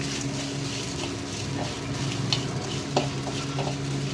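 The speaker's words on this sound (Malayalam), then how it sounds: "തേങ്ങ, പച്ചമുളക്, മഞ്ഞപ്പൊടി ഇതെല്ലാം കൂടെ അരച്ച തോരനരച്ച അതൊന്ന് വഴറ്റിയെടുക്കാം" Ground coconut, green chili and turmeric paste, with garlic and cumin, stirred in a pan for Kerala thoran, giving a steady close sizzle with scraping spatula strokes and a few sharper clinks throughout.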